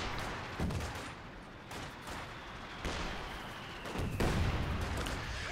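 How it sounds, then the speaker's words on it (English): Mortar and small-arms fire in Company of Heroes 2, a dense battlefield din with several heavier thumps at about 0.6, 1.7, 2.9 and 4.1 seconds over continuous crackling gunfire. "120mm mortar just being a nuisance."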